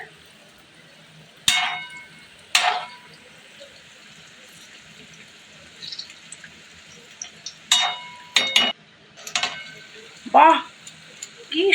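Palm fruit fritters (taler bora) frying in hot oil, a steady low sizzle with louder bursts of crackling and bubbling, alone without talk.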